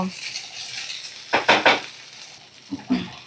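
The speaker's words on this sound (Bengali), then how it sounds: "এবার আমি এই যে ভিজানো জল ঝরানো চিড়েটা দিয়ে দেব আর ফ্লেমটাকে আমি একদম লো ফ্লেমে করে রেখে দেব" Soaked, drained flattened rice (chira) tossed into a pan on a low flame, giving a soft sizzle with a few quick scraping stir strokes in short bursts, close and alone.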